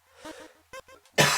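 A few short, soft coughs and throat sounds from one person indoors, ending in a single louder, sharper cough.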